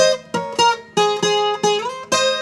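Slow requinto guitar intro, a handful of plucked notes and chords spaced about half a second apart, each ringing and sustaining, close and solo with no voices.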